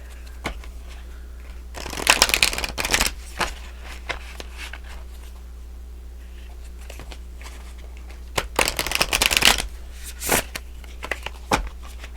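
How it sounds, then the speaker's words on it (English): A deck of oracle cards is shuffled in two brisk, crisp bursts of riffling and flicking, separated by quiet stretches with a low steady hum underneath. "Can we have an oracle card to start off for Capricorns in this love reading?"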